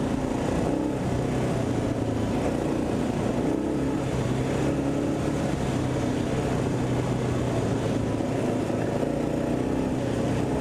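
A Kawasaki KLR motorcycle on a mountain road has its throttle opened, heard as a continuous engine drone with a steady hum under loud wind rush, even and unbroken throughout.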